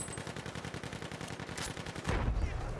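Machine gun fire in the World War I shooter Battlefield 1: a quick, steady stream of rounds at moderate loudness, broken by a heavier blast near the end.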